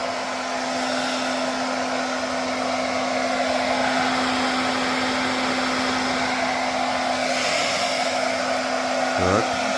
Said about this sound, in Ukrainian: Стрес-тест це фен 1800 Вт. Вмикаємо.